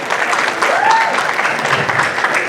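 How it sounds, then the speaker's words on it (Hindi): Hall audience at a Hindi poetry gathering in New York breaks into steady, loud applause for a poet, many hands clapping together in a dense continuous wash. "शशि मलिक जी के लिए एक बार फिर से तालियां हो जाए।"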